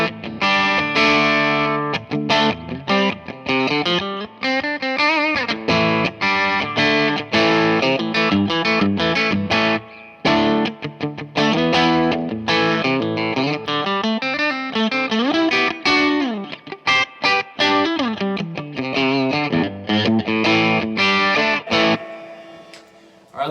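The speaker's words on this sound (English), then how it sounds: "here's Stratocaster, clean on the bridge" A Fender Stratocaster electric guitar plays a clean tone through its single-coil bridge pickup, with a little noise underneath. The playing is continuous, busy and loud, mixing strummed chords with runs, and no one talks over it.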